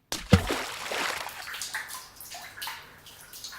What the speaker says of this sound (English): I actually insert yucky water effect.